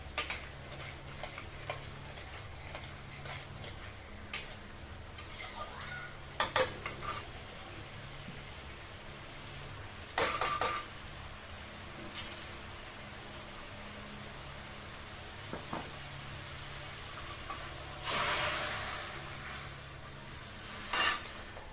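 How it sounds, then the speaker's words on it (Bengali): Sour dal is stirred in a pot, with soft, faint sizzling beneath occasional clinks and scrapes of a spoon against metal, spaced irregularly. "এটাকে ভালো করে একটু নাড়িয়ে নেবো"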